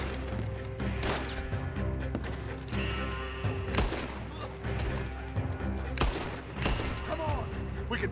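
Repeated sharp gunshot cracks with splintering impacts on wooden surfaces in a Red Dead Redemption 2 shootout, coming in irregular bursts roughly every second amid game background noise, with someone talking over the action.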